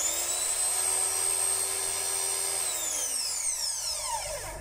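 A Black and Decker PW1400 electric pressure washer runs with a steady, high-pitched motor whine close by, then its pitch sweeps downward as the motor slows near the end.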